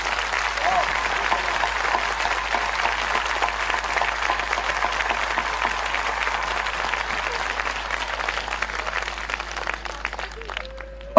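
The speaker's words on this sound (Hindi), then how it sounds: "क्या हम एक जोर से यीशु के लिए ताली बजा सकते हैं?" A church congregation claps loudly for Jesus during a Bible sermon; sustained, energetic crowd applause fills the whole stretch, fading near the end where a voice and a brief rising tone come in.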